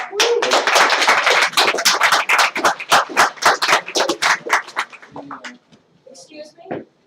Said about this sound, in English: Applause again to Jānis.